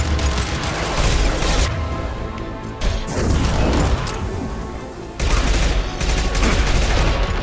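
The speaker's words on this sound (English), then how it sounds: "Firing an impact shot! Taking fire." Impact shot gunfire in Mass Effect 2, heard as loud, dense bursts of rapid shots. The firing runs almost continuously over mechanical clatter and crashing impacts, with a short lull midway.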